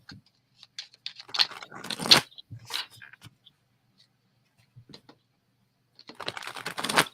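Haunted Mansion tarot cards being shuffled, quick papery riffles and taps in short bursts, one dense flurry in the middle and another at the end, close and separated by quiet gaps.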